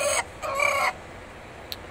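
A lone rooster clucks in short bursts, two close, bright calls followed by a tiny peep, heard nearby over a quiet background without speech.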